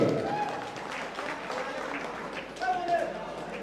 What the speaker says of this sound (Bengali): রানার আপ, জোরে করতালি।